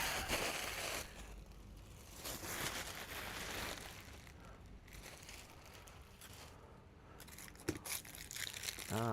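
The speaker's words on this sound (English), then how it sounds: "Some plastic bags on the floor." Plastic bags lying on a floor crinkle and rustle in faint, irregular bursts, quiet and close, alone without talk.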